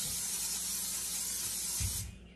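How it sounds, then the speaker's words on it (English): Vegetable oil cooking spray hissing into a 9x13 baking dish, one continuous close spray lasting about two seconds before cutting off, with a light knock near the end. "I'm just using some vegetable oil spray."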